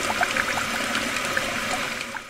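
Water running steadily from a tap, a close trickling stream with small splashes and gurgles throughout.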